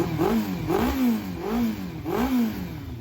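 A Yamaha Fazer 600 motorcycle engine revs hard in repeated bursts, pitch climbing and bouncing off the limiter about every half second, loud and close.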